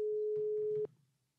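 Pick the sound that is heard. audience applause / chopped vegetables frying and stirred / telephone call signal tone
telephone call signal tone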